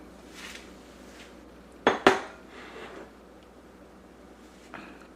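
Drained canned corn scraped out of two cans into a pot: two sharp metallic clanks and scrapes of a utensil against tin, followed by softer scraping, close up over faint background hum.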